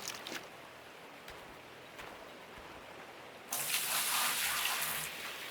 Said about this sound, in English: I take this up and dump it in the top of the sluice. That rinses some of the dirt down.